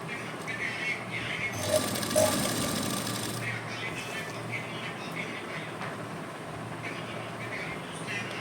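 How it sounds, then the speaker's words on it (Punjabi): A sewing machine stitches lace piping onto folded fabric, a steady mechanical whir that swells briefly near the start and then runs on evenly at moderate volume, with a faint voice in the background. "ਬਿਲਕੁਲ ਨਾਲ ਨਾਲ ਵੀ ਆਪਾਂ ਇਹਦੇ ਸਿਲਾਈ ਲਗਾਉਣੀ ਹੈ ਜਿਹੜੀ ਆਪਣੀ ਲੈਸ ਹੈ"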